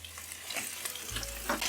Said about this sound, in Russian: Картофель обжариваю на среднем огне до готовности.